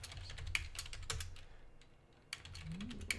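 A password is typed on a computer keyboard while configuring a Cisco ASA firewall, a quick run of faint close key clicks with a brief pause midway, no talking.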